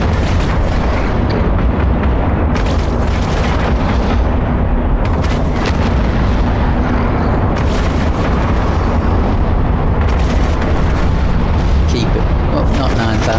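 Ship weapons firing at an enemy in the space game EVE Online, heard as a dense, loud run of repeated booming blasts with rumbling low end, bursts roughly every two to three seconds over a constant background, with talk mixed in.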